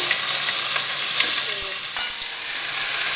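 Beef pieces searing in about a tablespoon of olive oil in a hot pot, a loud, dense sizzle with occasional clacks and stirring scrapes, heard up close with no speech.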